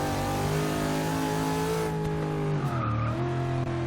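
A V8-swapped Mazda Miata drifting in Forza 6, its engine holding a steady high rev with tires squealing as it slides, the pitch dipping and wavering near the end, loud and close with no talk.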